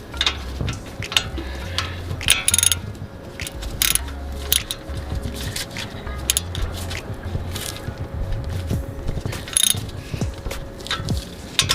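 A ratchet wrench tightens a 14mm banjo bolt on a brake caliper during a big brake kit install on an Infiniti Q50, giving repeated ratcheting clicks over a low steady hum, close up and without talk.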